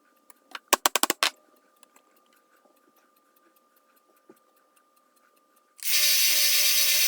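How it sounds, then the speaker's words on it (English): A 1-inch belt sander starts up and grinds pits from a screwdriver's metal shank, a loud steady whirring rasp over the final second, after a few sharp taps and faint ticking. "I'm removing pits and dings from the shank using a 1-inch belt sander"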